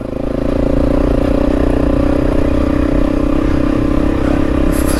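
A Honda CRF 450 motorcycle rides close behind on a trail ride, its engine giving a loud, steady drone with a rough, clattering edge that holds throughout. No one speaks.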